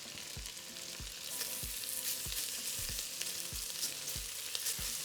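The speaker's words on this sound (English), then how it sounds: "We're going to be doing this step in batches because we want to get our meat nice and seared." Beef pieces sear in a hot pan for carne adobada, laid in a single-layer batch, giving a steady, close, bright sizzle with soft low thumps as pieces settle or are moved.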